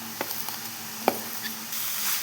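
A spoon stirs grated jaggery and coconut in a pan for modak, giving soft scraping strokes and a few light taps over a low sizzle. The sound is close and quiet, with no talking.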